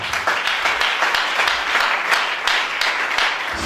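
Audience applause from a crowd at a French-language church service, a dense continuous burst of many hands clapping, steady and fairly loud throughout.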